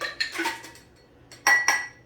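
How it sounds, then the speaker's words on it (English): Ice poured into a cocktail shaker while mixing a Maker's Mark bourbon drink, giving a few sharp clattering bursts of cubes hitting metal, close and fairly loud, with quieter clinks between. "take some ice and pour it into your shaker"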